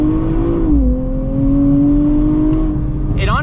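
A 2024 Nissan Z NISMO sports car pulls away in the canyons, its engine note rising steadily and holding loud and close, with a brief higher whine near the end.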